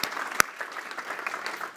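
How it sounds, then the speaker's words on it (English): A round of applause from an audience at a youth forum event, steady dense clapping with a sharp loud clap near the start, continuing evenly throughout with no talk. "So let's give Karen a round of applause as well."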